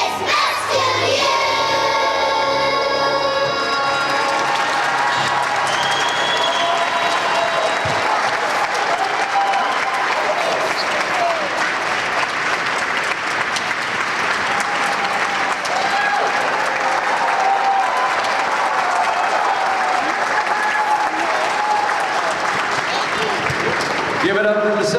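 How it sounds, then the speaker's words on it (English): Sustained audience applause fills the room after a second-grade school choir from West Hanover Elementary performs at the Capitol, steady and dense throughout with some cheering and crowd voices mixed in. "How about a big round of applause for Mr."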